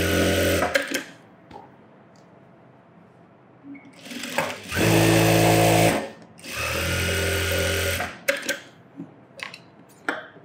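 Sewing machine stitching an extra seam to take in a garment's waist, several loud motor bursts of a few seconds each, separated by short pauses and small clicks.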